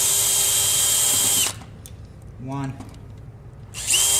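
A power drill backs screws out of a push bar door lock, whirring loud and close for over a second. A man briefly counts in the pause, then the drill whines up again.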